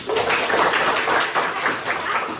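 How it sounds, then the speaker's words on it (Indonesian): A group claps hands together in a classroom, a brief burst of dense, even applause lasting a couple of seconds. "Tepuk tangan untuk kita semua"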